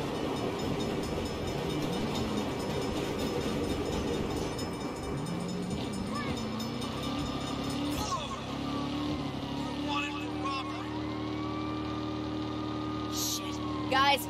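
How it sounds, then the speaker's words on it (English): A train passes in the Saints Row video game, a long rumbling roar that holds under city traffic, with a horn-like tone rising near the end. "Crap. Bad time for a train."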